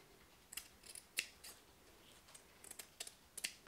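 Scissors snipping out paper hexagon pieces for English paper piecing patchwork, a series of quiet, sharp, irregular cuts close to the microphone in an otherwise quiet room.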